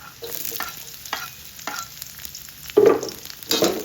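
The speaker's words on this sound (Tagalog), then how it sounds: "Next na natin dito yung onion. Ganun din yan, pag samasamahin ha." Garlic and onion sizzle in a hot pan and are stirred and mixed, with a spatula scraping and tapping the pan over the steady frying hiss. The sound is close, with no speech.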